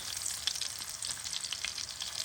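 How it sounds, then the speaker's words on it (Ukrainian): Liver and onions frying in a pan as liver patties are prepared, a steady, close crackling sizzle with no talk. "Пішло в мене десь хвилинки 3-4, як смажиться печінка."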